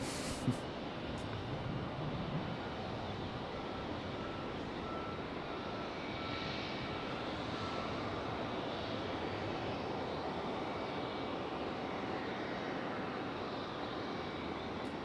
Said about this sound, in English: It's a Piper Cherokee Warrior 2.